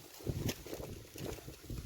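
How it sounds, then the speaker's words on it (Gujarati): Cool wind blows outdoors at a village farm near Gir, rumbling and buffeting against the microphone in uneven gusts. The sound is faint and low, with no clear voices. "પવન ચાલુ જ છે."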